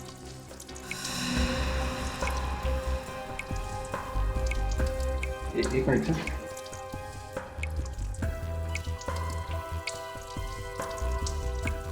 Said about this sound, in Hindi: चेक करो कहां से पानी टपक रहा है।